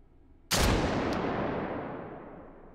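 A single sharp shot goes off in the VR game Hot Dogs, Horseshoes & Hand Grenades, a sudden loud blast after near-silence, followed by a long echoing decay and one faint click.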